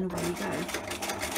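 A sewing machine stitching through fabric paper for a handmade book, running in a quick steady whir of needle strokes, close and continuous beneath a person's brief spoken remark.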